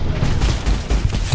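Rapid video-game gunfire with heavy recoil rattles in a fast, loud volley of shots, continuous and dense across the short burst.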